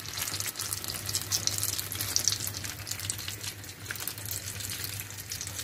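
Beignets fry in hot oil with a steady, soft hiss and crackle that fills the background, fairly faint and continuous, with no one speaking.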